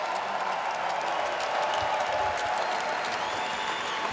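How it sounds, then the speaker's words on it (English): An arena crowd applauds two fighters after a five-round bare-knuckle boxing main event, a dense wall of clapping and crowd noise that runs steadily throughout with faint cheering mixed in. "let's have a round of applause for these 2 warriors."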